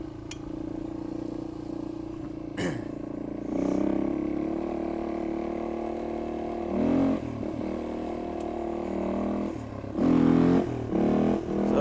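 A Yamaha XT225 dual-sport motorcycle rides a rough public dirt road, its single-cylinder engine droning steadily and swelling in several revs, with occasional clatter and scrape from the uneven surface and no talk.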